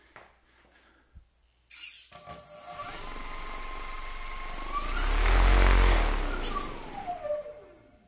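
An electric harness propeller with a prototype mechanical brake spins up to a loud whining, buzzing roar that swells and then winds down as the brake engages, preceded by a few faint clicks.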